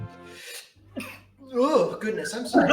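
A single sharp sneeze bursts out near the start during a tabletop role-playing game session, followed by a pause and then close conversational speech.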